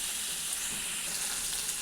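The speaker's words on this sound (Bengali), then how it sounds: "ফুলকপি ভেজে নেব।" Cauliflower frying in oil with turmeric for a Bengali mixed vegetable dish, a continuous bright, even sizzle heard up close without any voices.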